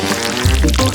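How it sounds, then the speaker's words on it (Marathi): Batter poured into a bottle in a home kitchen, a brief close glugging pour with a low, full liquid rush starting partway through, loud and heard alone. "आता पीठ एका खास बाटलीत ओता."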